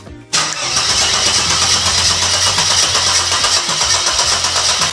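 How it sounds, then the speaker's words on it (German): A Mercedes-Benz engine cranks briefly and fires after its battery is refitted, then settles into a loud, steady, close idle with a dense, even rumble. "Hoffen, dass er anspringt."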